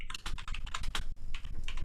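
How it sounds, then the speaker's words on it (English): Rapid, close clicking of someone typing on a computer keyboard, a dense run of keystrokes with a brief pause midway, no voices. "someone's typing"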